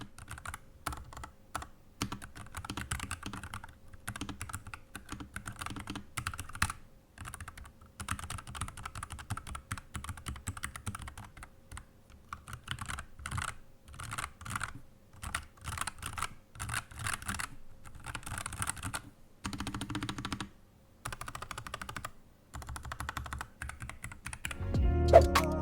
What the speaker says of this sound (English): here are some typing sound tests on the NuPhy Air75 with the brown switches